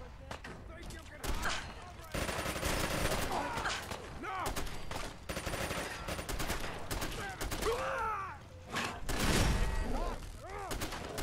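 Rapid bursts of light machine gun fire in a modded video game, loud clattering volleys with brief pauses between them, mixed with other battle noise and a voice talking.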